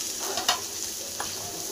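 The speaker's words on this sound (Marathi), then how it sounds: "भेजा बनवायसाठी कांदा आणि टमाटर चांगलं तळून घेते" Chopped onion and tomato fry in a pan for bhejа, a steady close hiss of sizzling oil broken by a few scraping stirs of a spatula, with no voices.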